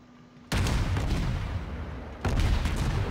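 Heavy naval gunfire from a World of Warships battle: two loud, booming salvos, the first at about half a second and the second near two and a quarter seconds, each followed by a long rumbling roar.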